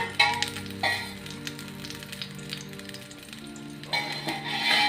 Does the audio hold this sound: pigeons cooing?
no